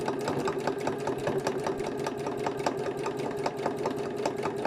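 A sewing machine stitches gardening journal covers in a steady, fast mechanical rattle of needle strokes, close and continuous throughout with a humming motor underneath.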